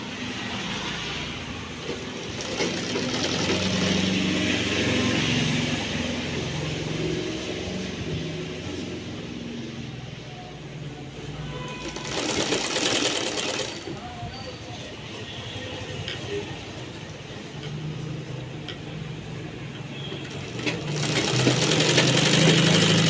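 Electric sewing machine stitching a dabba neck design on cloth, running in a steady, loud, fast whirring chatter with brief stops and restarts, while a person talks over it.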